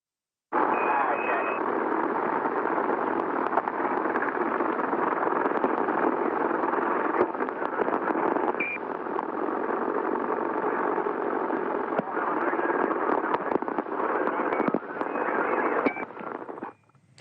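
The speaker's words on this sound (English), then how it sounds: "It's the only known audio of Kennedy's assassination. It was picked up on an open mic on a police motorcycle." Open-mic recording picked up by a police motorcycle radio during the Kennedy assassination: a continuous harsh, crackling radio hiss and engine drone, loud and noisy throughout, with faint tones and pops buried in it.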